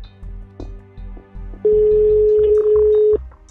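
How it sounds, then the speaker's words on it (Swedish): Telephone ringing in the Roblox game Brookhaven: a steady electronic tone that holds loudly for about a second and a half, after a few shorter beeps over a low pulsing background. "Jag ringer till Stella först"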